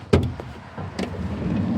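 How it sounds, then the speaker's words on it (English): A campervan's sliding door opens with a sharp metallic clack, a short rolling slide and a second latch knock, heard close up and followed by low rumbling handling noise. "the door opens, and then to close it, you just slide the door."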